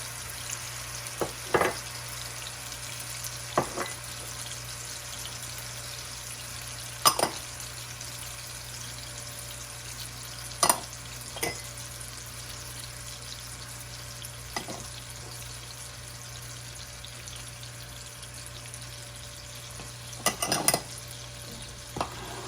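Ground chicken and spices frying in a pan, a steady low sizzle running throughout with sparse sharp clicks of a utensil against the pan, close and fairly quiet, no voices.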